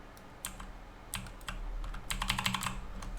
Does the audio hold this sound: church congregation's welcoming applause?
no